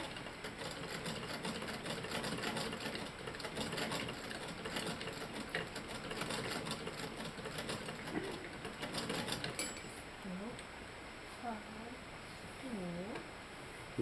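A sewing machine stitching, a steady close rapid whirring run for about ten seconds, then stopping while a voice and other faint sounds follow.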